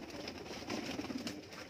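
Pigeons kept for sale cooing nearby, soft low throaty coos rising in the middle over a faint background hiss, fairly quiet overall.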